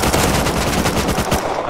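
Rapid gunfire in the video game Rust, a dense continuous burst of shots filling the whole moment, loud and close, with no voices over it.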